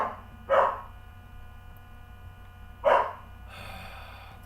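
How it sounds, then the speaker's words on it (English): A 5-month-old puppy barks twice indoors, two sharp close yaps about two seconds apart over a faint electrical hum, with no talking. "That's my dog. She's being less cute."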